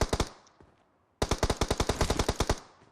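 Bursts of automatic gunfire from enemies in the shooter game PUBG Mobile, a short volley followed by a pause, then a longer rapid string of loud, sharp shots.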